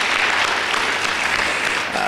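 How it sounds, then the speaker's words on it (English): Steady audience applause from a conference crowd, loud and continuous for about two seconds with no voices over it. "Give that a round of applause."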